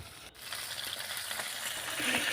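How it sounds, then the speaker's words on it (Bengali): Tilapia fish pieces fry in hot mustard oil, giving a steady, close hissing sizzle that swells slightly toward the end, with no talk. "আমি একটা একটা করে মাছের টুকরোটা দিয়ে দেব এইভাবেই খুব ভালো করে মাছগুলোকে ভেজে নিতে হবে"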